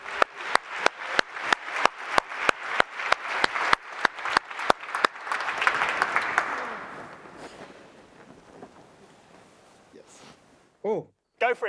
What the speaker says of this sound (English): Please give a big round of applause to Kennedy.